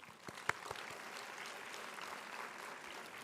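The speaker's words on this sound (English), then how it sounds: "May we give Minister another round of applause." An audience applauds a minister at a university conference opening ceremony, a soft, distant wash of clapping with one or two sharper claps standing out early on.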